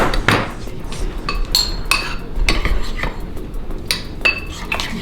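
A utensil stirs waffle pizza batter in a bowl, scraping and clinking irregularly against the sides in quick, close strokes, with a few sharper metallic taps.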